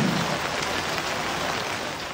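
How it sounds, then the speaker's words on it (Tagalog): Dense, steady downpour of heavy rain with gusty wind, hissing across surfaces without pause, loud and close, no talking. "Ang malakas na ulan na sinabayan ng bugso ng hangin"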